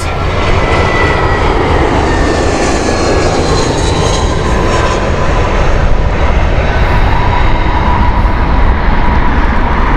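A loud, continuous engine roar fills the air as an airliner on the Toulouse flight passes at Heathrow Airport, swelling slightly midway with a broad rumble and whine.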